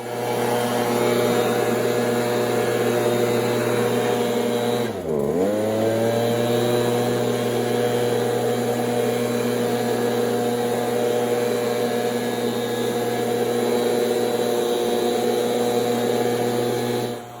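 A STIHL BG86C petrol leaf blower runs at a steady, loud drone while clearing leaves off rubber playground surfacing, with one brief dip in engine pitch partway through before it settles back to full power.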